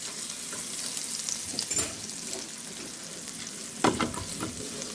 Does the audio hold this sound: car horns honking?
no